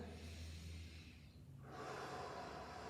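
A single deep breath during a power yoga flow, a soft airy inhale that fades, then a longer, fuller exhale close to the microphone, with no voices.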